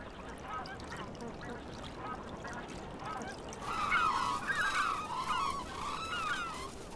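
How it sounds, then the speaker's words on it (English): Black-necked cranes calling in a Tibetan river valley wintering ground, a flock of loud, overlapping honking trumpet calls that burst in partway through over steady background hiss. "a large number of black-necked cranes spend winter here every year"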